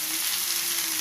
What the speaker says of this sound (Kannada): ಮೆಂತ್ಯೆ ಸೊಪ್ಪು ಹಾಕಿದ್ದೀನಿ, ಇದು ಸ್ವಲ್ಪ ಫ್ರೈ ಆಗ್ತಾ ಇದೆ